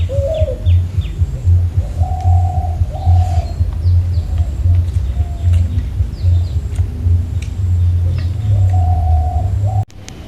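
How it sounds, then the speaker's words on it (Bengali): Doves coo repeatedly in a village, low soft hooting phrases recurring every second or two over a steady background murmur, fairly close and clear. "দুদিন ধরে আমার ঘুঘু পাখির আমদানিটা বেশি।"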